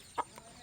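A single short chicken cluck from large hens let out of their coop at feeding time, one near, clear call followed by quiet.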